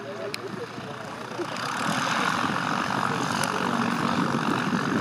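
The electric motor of a small electric plane turns its propeller slowly on the ground, a steady whirring hum that grows louder and holds, with people talking over it.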